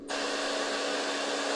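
A heater switches on abruptly right beside the microphone and blows a loud, steady, airy whoosh that holds unchanged until the end.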